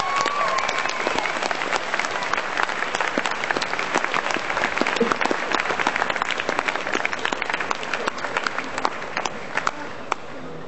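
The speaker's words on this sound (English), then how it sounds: "if I can have a huge round of applause for the still living. Alexis Cruz." A convention audience applauds a guest actor with sustained, dense clapping, many hands close and loud, continuing steadily for several seconds.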